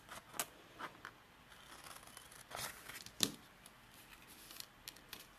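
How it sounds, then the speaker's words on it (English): Scissors cut through paper on a crafting table, a few sharp snips and soft rustles spread irregularly across a quiet room. "I'm going to cut it a little bit more"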